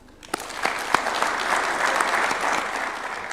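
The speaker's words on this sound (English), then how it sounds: "to give a warm round of applause for His Excellency the President" Audience applause for the President at a New Year diplomatic briefing at State House, Nairobi, a few sharp early claps swelling into a sustained, dense round of clapping from a large crowd.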